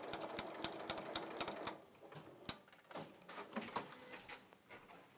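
A sewing machine stitching across fabric binding, a fast close rattle of needle strokes that slows into scattered clicks and soft handling sounds.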